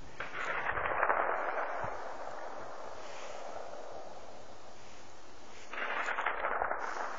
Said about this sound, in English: That's one gunshot echoing across the hills,